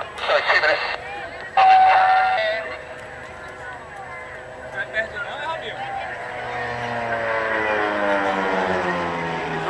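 Aerobatic display aircraft performing loops and half rolls at the Bray Airshow in summer, its engine droning loudly with a sweeping pitch as it climbs and turns, heard beneath a continuous commentator's voice.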